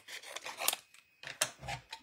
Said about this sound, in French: on va le couper à la perforatrice.